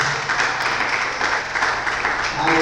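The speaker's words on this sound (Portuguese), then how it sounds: "Vamos aplaudir esse Deus Todo-Poderoso." A church congregation claps together in one continuous burst of applause that stays dense and fairly loud for a few seconds.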